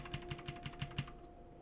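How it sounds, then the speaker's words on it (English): Rapid keystrokes on a computer keyboard during a JavaScript and Python coding session, about six evenly spaced clicks at close range, then quiet. "I should be using my keyboard instead of my mouse."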